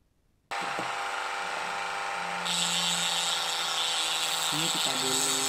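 A small power drill bores into the first layer of an eMMC chip. It starts abruptly after a brief silence and holds a close, steady high whine that grows brighter partway through.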